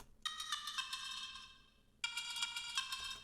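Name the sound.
bell instrument through vocoder in Ableton Live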